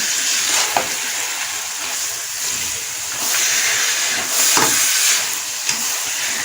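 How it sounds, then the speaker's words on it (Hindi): Grated carrots for gajar ka halwa being stirred in a hot pan, giving a steady sizzling hiss with soft scraping strokes of the spoon rising and falling, close and fairly loud, with no talking. "इन्हें मिक्स करेंगे।"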